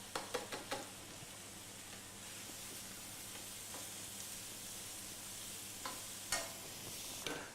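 Leek and onions sizzle faintly and steadily in a pan, with a few sharp spoon knocks at the start and scattered stirring clicks later, quiet and without speech.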